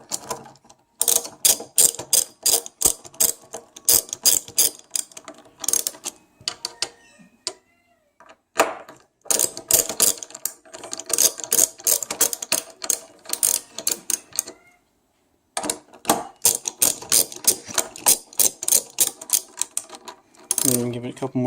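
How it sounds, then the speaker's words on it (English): A hand ratchet clicks in rapid bursts of pawl ticks while tightening the bolts of a car steering wheel adapter. It sounds loud and close, and short pauses split the clicking runs. No one talks. "Get your ratchet. Turn it to the left so it's tightening it."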